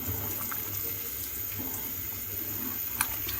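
Water runs steadily into a pot for cooking soaked rice in a kitchen, a continuous close splashing flow with a small clink near the end.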